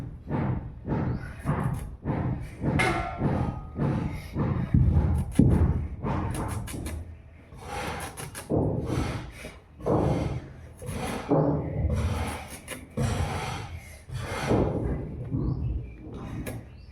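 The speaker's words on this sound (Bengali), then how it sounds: "আদাগুলো একটু ছোটো ছোটো করে পিস করে কেটে নিই, শিলেতে একটু" Chopped ginger is ground on a traditional stone grinding slab with repeated heavy rubbing and thudding strokes in a steady rhythm, loud and close, and no talking.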